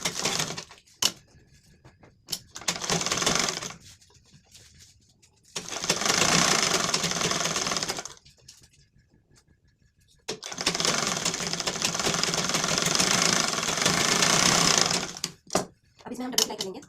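A sewing machine stitches a lined blouse in two long, steady whirring runs separated by short pauses and brief start-stop bursts, close and fairly loud.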